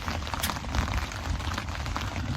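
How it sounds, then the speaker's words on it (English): Rain falls at a campsite beside a small teardrop camper trailer, a steady close patter of drops hitting surfaces with a few sharper taps, and no voices. "it started raining again."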